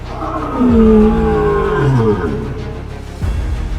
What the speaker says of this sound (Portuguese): um rugido rasga o silêncio da savana